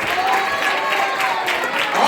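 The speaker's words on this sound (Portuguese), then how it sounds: "Mistura esse glória dando palma para Jesus" Church congregation clapping for Jesus during a Portuguese-language worship service, a steady dense wash of palms throughout with some crowd noise mixed in.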